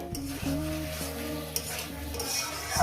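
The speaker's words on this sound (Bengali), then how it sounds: "ধনে পাতা দিয়ে আমি আরও এক মিনিট কষিয়ে নেব" Rohu fish curry with potatoes and coriander leaves is stirred in a pan, giving a low close sizzle with scraping and light utensil clinks against the cookware over a steady background hum.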